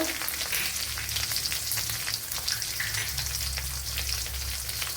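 Green chillies and garlic fry in hot oil in a pan for a beans and carrot thoran, a loud, steady close-up sizzle with crackling spatters and no voices.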